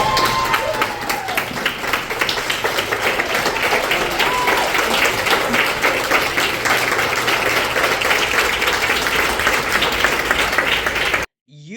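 A room full of people rises in a standing ovation for a young speaker, sustained loud clapping with some cheering throughout, ending abruptly.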